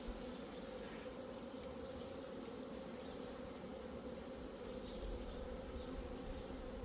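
Honeybees around a beehive make a constant, droning hum, a dense layered buzz that stays steady and close throughout, with no speech.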